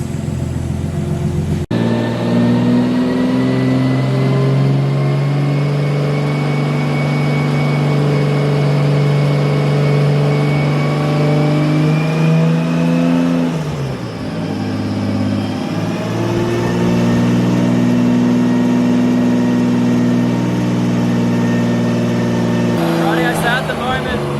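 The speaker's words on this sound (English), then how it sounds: "The engine's running amazingly smooth and so quiet at the moment." A Nissan Skyline R33 RB25 engine runs smoothly at a steady idle on a dyno, its pitch dipping briefly midway before settling again, loud and close.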